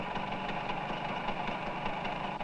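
A motor scooter engine idles steadily at moderate distance, a continuous buzzing drone with a faint regular pulse and no voices over it.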